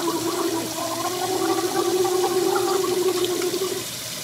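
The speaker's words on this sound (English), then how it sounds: "if you gargle long enough, bubbles will start coming out of your mouth." A person gargles water in a long, sustained bubbling rattle lasting about four seconds, close and fairly loud, then trailing off.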